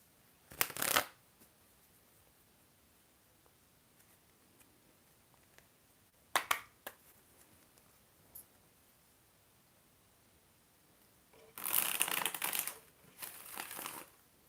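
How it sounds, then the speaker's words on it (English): Tarot cards shuffled in three separate bursts: a short riffle near the start, another briefly midway, and a longer, louder riffling flurry near the end, with quiet pauses between and no talking. "that was like the cleanest shuffle I've ever done in my life"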